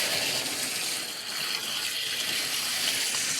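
Tap water gushing steadily into a basin in a home, rinsing out dirty water after wheat cleaning, a continuous close hiss that holds level without a break.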